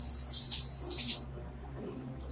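Water runs from a kitchen tap onto a towel in short hissing bursts, a soft splashing flow that rises and fades within a couple of seconds, fairly quiet and close over a low hum.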